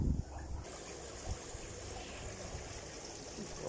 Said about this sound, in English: Okay, that's both showers working